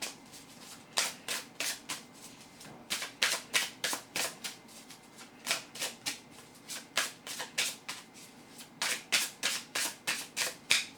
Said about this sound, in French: on va commencer tout de suite en vous tirant une carte dans cet oracle-là